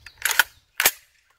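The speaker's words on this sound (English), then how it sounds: "Pulling the magazine seems to work." Sharp metallic clacks come from a Panzer Arms BP-12 12-gauge shotgun as its jammed magazine is pulled free, a quick cluster of close clicks followed by a single louder snap.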